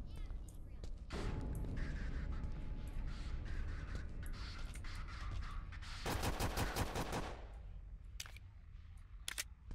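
Gunfire in the horror video game Apartment 1406, a rapid burst of loud repeated shots midway through, with other scattered game noises and background talk around it.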